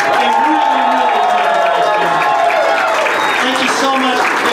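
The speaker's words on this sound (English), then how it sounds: "please, let him hear the applause" Continuous dense applause from an audience filling the room, with a voice speaking over the clapping throughout.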